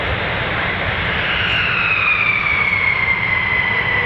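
US Air Force F-15 and F-35 fighter jets flying as a flight of three at RAF Lakenheath make a loud, sustained engine roar, with a rising whine sweeping through as the aircraft pass close by.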